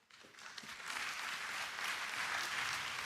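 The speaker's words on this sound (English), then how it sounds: "Let's have one more round of applause for all the best teammates of the year." Audience at a high school sports awards ceremony breaking into applause, clapping that swells within the first second into a steady, moderately distant roar of many hands and holds to the end.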